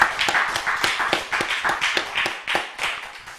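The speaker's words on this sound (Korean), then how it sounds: "우리 함께 영광의 박수 올려드리겠습니다." A church congregation claps together in a fast, even rhythm, close and loud, with no voices over it.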